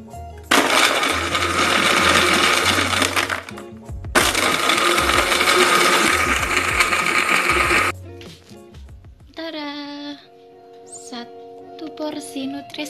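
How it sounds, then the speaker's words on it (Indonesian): A blender whirs loudly in two long bursts while mixing a vanilla strawberry Nutrishake nutrition drink with ice, then stops and soft background music follows. "Kita langsung blender ya."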